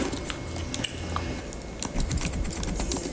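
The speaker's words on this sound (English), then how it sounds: "So I can hear my mouse, but like, I don't know if y'all can." Rapid computer mouse clicks patter in quick irregular bursts during PC gaming, close and crisp over a low background hum, without any talk.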